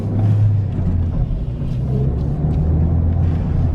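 A Ford Fiesta ST fitted with a Whoosh intercooler drives down a street on a short pull, its engine giving a steady, loud, low rumble from close by throughout.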